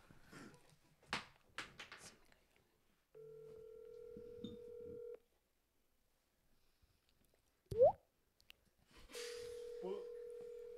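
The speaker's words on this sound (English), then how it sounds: "Let that phone ring." Push-button telephone dialing tones: steady held tones sound twice, between scattered room noise and a brief sharp noise, with no speech over them.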